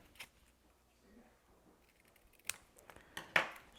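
Scissors snipping a piece of paper, a few quiet, sharp cuts near the end after a mostly still stretch.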